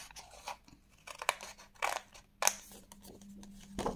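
Scissors snip through paper while a scrapbook gift box is cut out, giving several separate crisp crunching cuts at irregular intervals, close and fairly quiet, with no talk.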